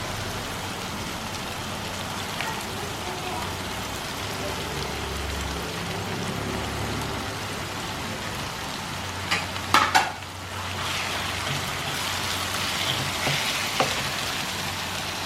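Sliced onion frying in oil alongside pineapple in a pan, a steady soft sizzle running throughout with a few brief clatters of stirring near the middle.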